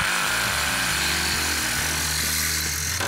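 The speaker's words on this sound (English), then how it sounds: "I'm using a jigsaw to cut the screen frame." Jigsaw cutting a screen frame for a school bus conversion: a loud, continuous buzzing cut up close, with the motor pitch wavering slightly as the blade works through the frame.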